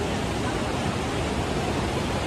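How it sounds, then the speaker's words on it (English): Lower waterfall in Yosemite National Park, California, roaring as a steady, dense wash of falling water that fills the whole span with no voices. "And we get now to the lower waterfall."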